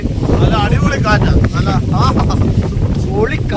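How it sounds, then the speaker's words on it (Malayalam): Strong wind buffets the microphone at a rocky viewpoint, a loud, continuous roar and rumble that fills the whole clip, with faint voices mixed in. "എന്നാ കാറ്റാന്ന് പറയാ, അടിപൊളി കാറ്റാ"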